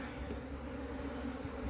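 Honey bees buzzing during a hive cut-out from an old tree stump, a dense continuous drone of many bees heard close, with no talking.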